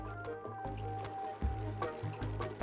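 Cold water flooding across a base in the colony-building game Oxygen Not Included, a soft liquid gush with dripping and squishing splashes, mixed with low droning game sound and close, fairly steady.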